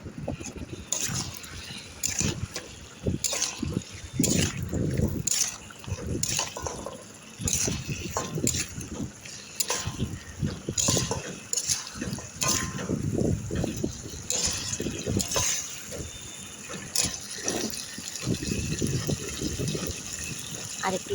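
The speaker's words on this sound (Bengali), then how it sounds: "অল্প একটু জল দিয়ে দিলাম।" Water poured into a pot of aloo dum (Bengali potato curry) while cooking: a steady splashing, gurgling pour running throughout, with someone talking over it.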